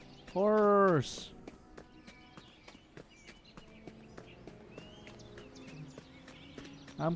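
In a Sherlock Holmes video game, a horse gives a loud whinny near the start, followed by soft hoof clops and shuffling.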